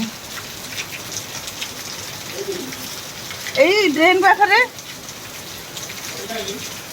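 Steady rain patters on a surface throughout, with a brief voice speaking partway through.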